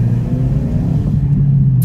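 Engine of a Ford Mustang convertible humming steadily, a loud low rumble that holds even throughout with no voices.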